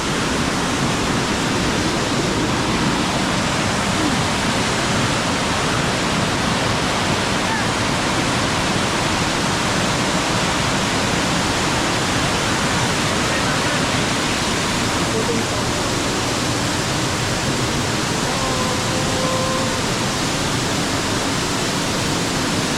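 Steady roar of Elephant Falls, a waterfall in Shillong, Meghalaya, heard up close as a loud, unbroken broadband rush of falling water that stays even for the whole stretch, with no other sounds standing out.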